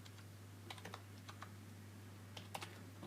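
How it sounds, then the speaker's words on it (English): Numbers are typed on a computer keyboard in a few quick, faint clicks scattered over a low steady electrical hum, close by in a quiet room. "all I'm going to do is just type in"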